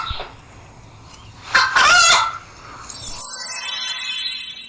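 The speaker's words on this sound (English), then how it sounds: "chicken," A farmyard chicken gives a short, loud burst of clucking and squawking, followed by fainter, steadier bird calls in a quiet setting.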